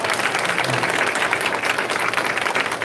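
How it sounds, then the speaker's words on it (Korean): A church gathering in a Korean-American congregation breaks into loud, sustained applause welcoming guest lawyers, a thick continuous roar of many hands clapping with no pauses. "박수로 크게 환영해 주시면 아마 힘이 날 겁니다"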